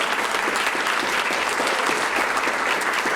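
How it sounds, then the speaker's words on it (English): An audience at a chamber of commerce annual awards breakfast claps steadily, a dense, even round of applause from a room full of people. "Let's give them all a round of applause."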